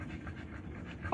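Dogs panting softly, a quick rhythmic breathy huffing, faint and close, in a brief stretch with no talk.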